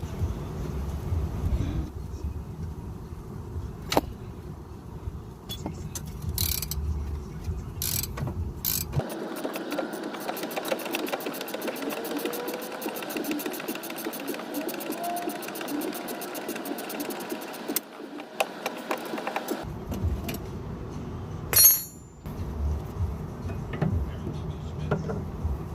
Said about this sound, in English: I have a ratcheting wrench on the nut, and I'm just going to hold the vice grip while I ratchet it off